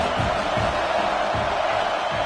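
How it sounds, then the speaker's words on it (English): A home football stadium crowd roars in a loud, continuous wall of cheering that fills the whole stretch without letup. "how nice is it to have the home crowd going absolutely bananas?"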